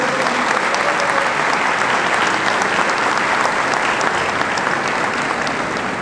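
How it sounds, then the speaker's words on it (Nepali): A large audience claps loudly and steadily for about six seconds at the Nepal Bible Society's golden jubilee gathering, a dense even roar of applause with no pauses. "हामी जोरदार ताली बजाउनेछौँ।"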